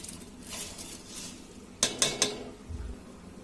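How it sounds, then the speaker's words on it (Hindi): Cooked rice is tipped into a pan for egg chicken fried rice, landing in three sharp metallic clatters against the pan, heard close over soft background sizzling. "अब हम इसमें चावल डाल देंगे"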